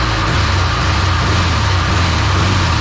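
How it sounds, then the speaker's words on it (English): A 1968 Chrysler VE Valiant engine runs steadily close by, a constant low rumble with a loud water pump adding an even whirring drone, no talk over it. "as you can hear, the water pump's quite loud"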